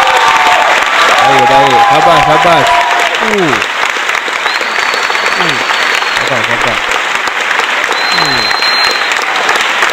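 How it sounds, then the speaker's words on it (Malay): Applause from an audience at a Malay-language Quran recitation session, a broad steady wash of clapping filling the whole stretch while someone speaks over it and a voice chants in melodic bursts. "Bagi tepukan lah kepada Al-Walid bin Walid."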